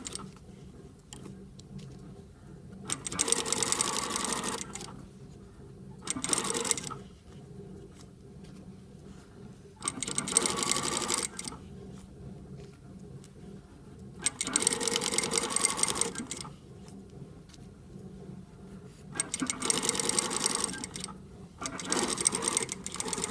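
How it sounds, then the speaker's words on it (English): A sewing machine stitches a bias binding down the groove of a seam, running in five separate bursts of fast, steady whirring, each a few seconds long, with quiet gaps between and no voices. "Go to my machine, back tack, and stitch all the way down in the groove of that binding."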